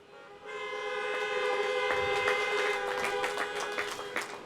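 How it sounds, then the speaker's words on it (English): Several car horns honk together in a sustained, overlapping chorus at a high school drive-in graduation outdoors, with short extra toots popping in over the steady blare. "Give me a honk"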